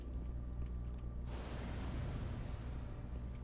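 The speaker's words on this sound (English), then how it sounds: "Yay, explosions." A heavy explosion erupts in the Black Mesa shooter game, a sudden loud broadband blast about a third of the way in that rolls on as a sustained rumbling roar over a low mechanical hum.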